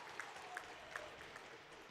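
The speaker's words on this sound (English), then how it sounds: "we hear some applause from stands underneath as Mussington will take it to center" Applause from the stands of a hockey arena after a goal in a youth game, a faint, distant wash of clapping with a few sharper thuds, heard alone.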